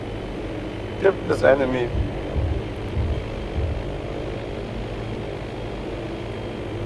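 A propeller plane's engine drones steadily as it passes in a World War II German bombers video game, while players keep talking over it.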